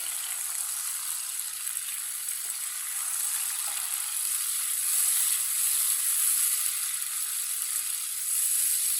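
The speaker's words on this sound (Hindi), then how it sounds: "दो बड़ी कटे हुए टमाटर, दो सब्ज मिर्च कटी हुई, 1 मिनट के लिए पका लेंगे" Chopped tomatoes and green chillies fry in a pan with a steady, even sizzle that holds at a moderate level throughout, with no talking over it.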